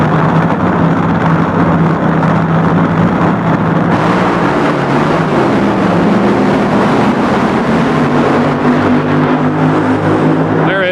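Drag racing cars launching at the 1975 World Finals at Ontario Motor Speedway, a loud continuous engine roar with a shifting, rising pitch, steady and dense throughout.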